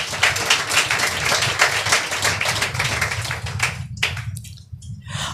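A church congregation at IPC Church Nandikotkur claps together in a dense, steady burst of many hands. After about four seconds it thins into a few scattered, separate claps.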